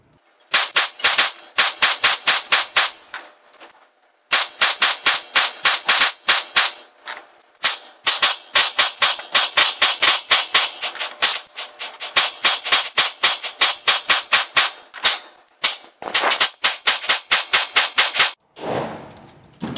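Walther PPQ SC pistol fired in long, fast strings of sharp, loud cracks, with short pauses between strings and a brief rustling sound at the very end.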